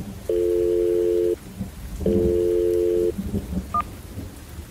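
Touch-tone telephone dialing in a horror audio drama, two long steady tone bursts followed by a short higher beep, over soft rain-like background noise.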